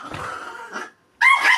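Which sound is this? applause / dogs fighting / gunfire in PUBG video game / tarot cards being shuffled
dogs fighting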